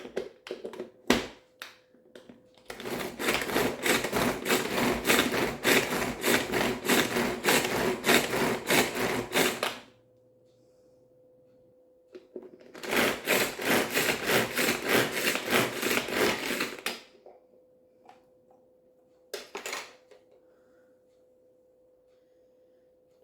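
A pestle pounds garlic and coriander chutney in a kundi mortar in two long bursts of rapid, regular thuds and grinding scrapes, separated by near silence and a few scattered knocks.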